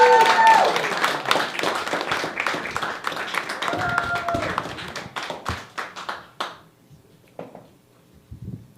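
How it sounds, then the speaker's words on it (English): A comedy club audience claps and cheers for a stand-up comedian at an open mic night, loud and dense at first, then thinning into scattered individual claps before fading toward quiet. "Give another round of applause, guys."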